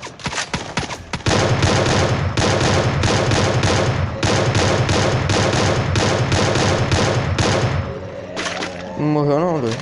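Loud, dense video game gunfire: rapid automatic bursts and overlapping shots pour out almost without pause, then ease off near the end as a voice briefly comes through.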